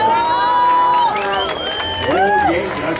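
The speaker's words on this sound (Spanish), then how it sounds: "El aplauso para El Gran Tiempo." Loud cheering and whooping from a crowd at a radio program event, with shrill voices rising and falling in overlapping shouts over a dense background of applause and crowd noise.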